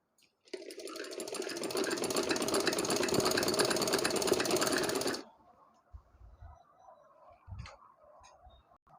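A sewing machine stitches a cut-work cloth sleeve with lace slips, running loud and steady with a fast ticking rhythm for about five seconds before stopping, leaving faint handling noises.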